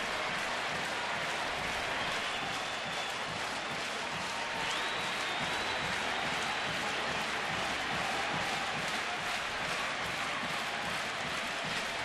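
A baseball stadium crowd at a Cincinnati–Cleveland game roars and applauds steadily after a go-ahead run scores, a dense, continuous wash of cheering that stays loud throughout.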